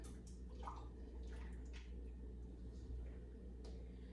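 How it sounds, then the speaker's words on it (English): Vinegar poured into a container of 14-day pickles, soft intermittent trickles and drips of liquid, faint and close over a low background hum. "So I'm gonna go ahead and pour our vinegar in"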